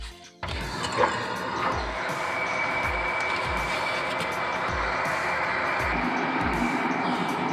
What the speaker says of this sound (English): You will hear the sound like this until the tank is filled.